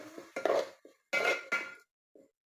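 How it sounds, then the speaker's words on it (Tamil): Tomatoes being stirred in a cooking pan for a broad bean seed curry, giving a few scraping, clattering bursts of utensil against metal, fairly close, with short pauses between strokes and no talking. "தக்காளி சேர்த்துட்டு நல்லா கிண்டி கொடுத்துக்கோங்க"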